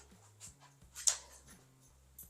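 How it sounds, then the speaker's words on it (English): A dog whimpers faintly, giving a brief high whine near the middle against a low steady background hum. "my dog."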